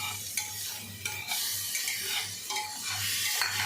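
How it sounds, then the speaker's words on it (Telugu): Chopped tomato goes into a pan of mutton curry that sizzles and fries loudly and steadily, with a utensil stirring through it and scraping the pan in repeated strokes, close up, with no voices. "ఒక టమాటా పండు మనం వేసుకున్నాం ఫ్రెండ్స్"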